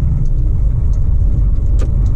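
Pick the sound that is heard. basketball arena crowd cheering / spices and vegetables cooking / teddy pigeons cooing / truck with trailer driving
truck with trailer driving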